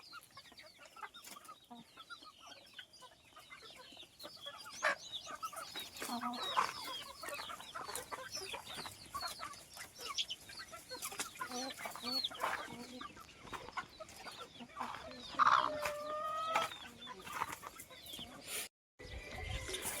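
Chickens on an Indian desi chicken and goat farm cluck and call over and over, near and fairly loud, with one squawk standing out near the end, over a steady outdoor background.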